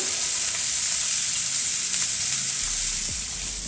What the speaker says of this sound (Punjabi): ਹੁਣ ਆਪਾਂ ਸਬਜ਼ੀ ਨੂੰ ਇਹਨਾਂ ਨੂੰ ਪਿਆਜ਼ਾਂ ਨੂੰ ਢੱਕ ਕੇ ਪਕਾਵਾਂਗੇ